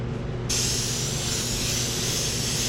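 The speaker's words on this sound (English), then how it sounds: "I'm going to airbrush around the edges and up here and down here." An airbrush sprays red paint, a loud continuous close-up hiss that starts abruptly and holds steady over a low mechanical hum.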